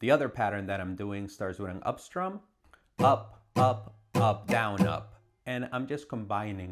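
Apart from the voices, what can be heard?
No everyday noises stand out.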